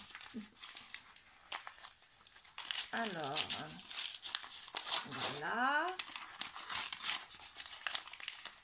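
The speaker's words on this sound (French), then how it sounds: "je peux me faire une joie de déchirer un papier" Thin advent calendar wrapping paper being torn open and crumpled by hand, crinkling sounds scattered through the clip, close up, with someone speaking briefly over it.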